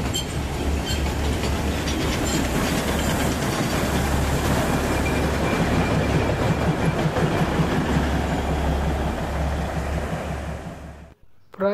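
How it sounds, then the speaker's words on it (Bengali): Toy train on the Matheran hill railway running close by, a loud continuous rumble and rattle of wheels that holds for about ten seconds before fading and cutting off. "টয় ট্রেন দেখতে পেলাম।"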